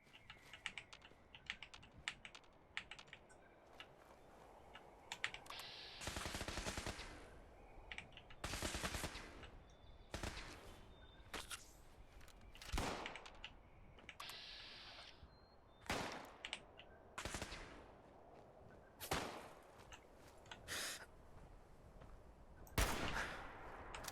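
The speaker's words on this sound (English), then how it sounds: "Let's go for a little snipe shot." Sniper rifle shots in Fallout 76: half a dozen sharp, loud cracks spaced a few seconds apart, with steady keyboard clicking and quiet game ambience between them.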